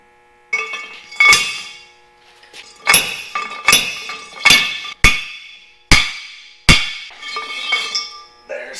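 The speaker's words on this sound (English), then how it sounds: "I'll set this onto there, like so, and then hammer it down on" Sharp metallic hammer strikes ring out one at a time with short gaps, about eight blows, loud and close, each trailing off in a bright ring, as a part is hammered onto a Jeep axle.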